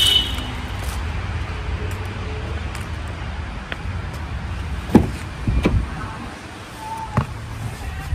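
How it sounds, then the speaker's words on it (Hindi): A Tata Punch car door is shut with a couple of short solid thuds against a steady background hiss of traffic and ambient outdoor noise. "तो यार ये साउंड सुनना दरवाजे का"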